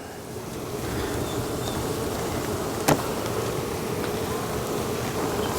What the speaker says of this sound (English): we're going to put these frames of bees into our hive here